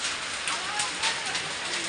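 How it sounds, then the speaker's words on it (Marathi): Hail and rain drum on a tin sheet roof in a windy storm in Dharashiv district, a dense, close, steady patter with occasional sharper hits over the brief stretch. "पत्र्यावर पूर्ण आवाज येतोय"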